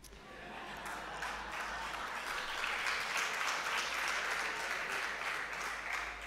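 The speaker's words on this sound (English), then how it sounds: "Because of the amount of clapping" Sustained clapping from an audience fills the space, steady and dense throughout, swelling slightly in the middle.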